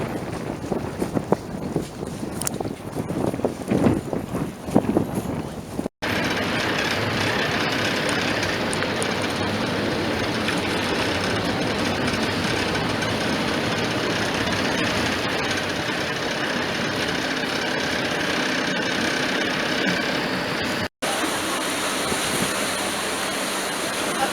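A ferry's engine drones steadily on the crossing back from Saint-Tropez to Sainte-Maxime, a loud, unbroken rumble with rushing water and wind that takes over after a few seconds of quieter sound.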